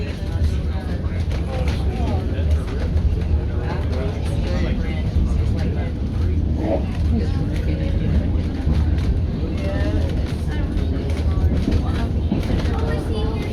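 A train rolls out of Skagway, Alaska, giving a steady low rumble and rattle of railcars that runs unbroken throughout, with faint murmured voices of passengers mixed in.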